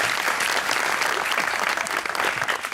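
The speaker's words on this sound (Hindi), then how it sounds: "तालियां इनके सवाल के लिए" A studio audience at an interview breaks into loud, sustained applause, thick, continuous clapping heard close and on its own with no talking.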